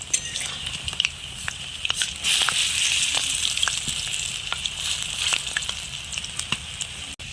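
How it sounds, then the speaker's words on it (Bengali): Flipped cabbage fritters sizzle steadily in hot oil in a wok, a dense close crackle broken by repeated sharp clicks and taps of a spatula against the pan. "বড়াগুলো এক পাশ ভাজা হয়ে গেছে"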